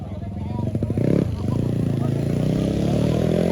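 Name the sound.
Honda Wave motorcycle racing past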